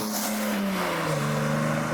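Datsun 240Z race car engine pulling through second and third gear, a loud sustained drone with the pitch sliding as it shifts, heard close from the cabin with no talk.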